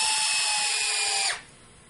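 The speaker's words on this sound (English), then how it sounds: "And then I'll use my Hitachi drill here." A Hitachi power drill drives screws into an RC car differential housing, giving a close, loud, steady high whir that runs for over a second and then winds down quickly, with faint clicks underneath.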